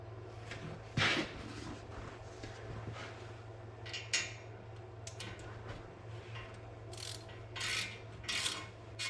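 A torque wrench tightens header bolts on a Holden HT Monaro, with sharp ratcheting clicks and metallic scrapes in scattered bursts over a low steady hum.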